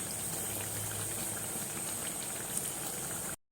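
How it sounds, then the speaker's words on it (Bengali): Kachori deep-frying in hot oil, cooked until reddish-brown: a steady, dense bubbling hiss that holds evenly close by for over three seconds, then cuts off abruptly. "সেই জন্য একটু আমি লাল লাল করে ভাজছি"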